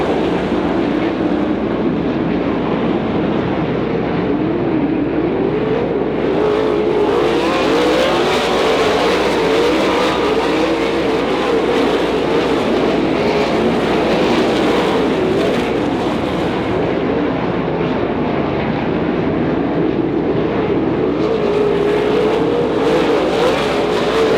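Sprint cars roar continuously around a dirt oval during an outlaw sprint series memorial feature at a raceway, a loud, sustained engine thunder from the pack on the opening lap with no talk over it.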